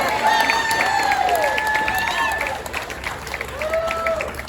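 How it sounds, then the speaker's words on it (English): An audience at a Roe v. Wade emergency action rally gives brief, scattered applause with a few whistles and cheers rising above the claps, and people speak over it. "thank you for your pity clap"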